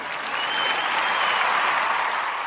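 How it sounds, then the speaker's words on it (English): A canned applause sound effect plays in a podcast, a steady wash of crowd clapping and cheering at even volume for a couple of seconds with no talking over it. "I think we can drop the applause effect for that"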